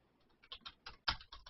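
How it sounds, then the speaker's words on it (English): Typing on a computer keyboard heard faintly in the background of a live call, a quiet irregular run of key taps with one sharper clack near the end, no voices over it. "I can hear him typing"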